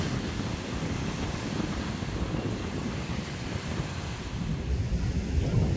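Surf rolls in against a trash skimmer stuck on the sand at Dolomite Beach on Manila Bay, a continuous broad roar mixed with gusting wind buffeting the microphone, growing slightly louder toward the end.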